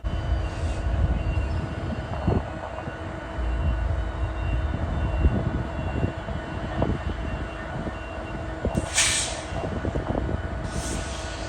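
CPKC locomotive 5034 rolls through the Bensenville intermodal yard, a steady low rumble of engine and rolling stock with faint metallic clanks and occasional brief hissing bursts, heard from a moderate distance.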